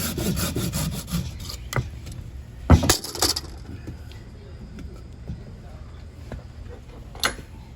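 A newly replaced hand saw rasps through wood in a few strokes near the start while building a floor, followed by clattering handling noises and quieter scraping.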